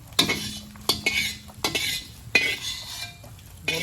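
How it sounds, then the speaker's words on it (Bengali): A metal utensil clinks and scrapes sharply against a pan as a fried egg is lifted out for chowmein, with several distinct knocks and a few quiet gaps between them. "ডিমটা ভেজে নিয়ে এখন তুলে নিচ্ছি"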